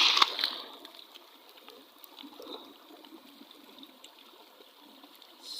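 River water runs over rocks in the Philippines, a faint, steady trickle and wash with a slightly louder burst at the start and no voices.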